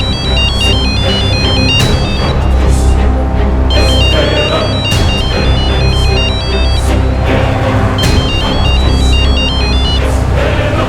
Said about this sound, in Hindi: फोन उठा यार, फोन उठा।